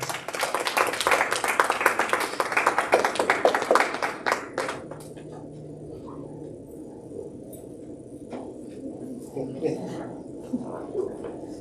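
Audience applause for a university arts festival performance with harmonium, dense clapping for about four seconds that then fades into murmuring room noise and scattered voices.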